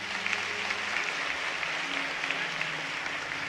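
A church congregation at a praise and worship service breaks into steady, full applause, a dense continuous wash of clapping with a faint tonal hum beneath it.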